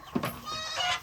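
On a farm, goats give a short, close bleat followed by a wavering cry, moderately loud, with no voices.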